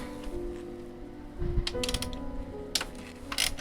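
A 10 mm socket on an extension works loose the nuts over the knock sensor of a Lotus Evora's 2GR-FE engine, with quiet mechanical shuffling followed by clusters of sharp ratcheting clicks close by.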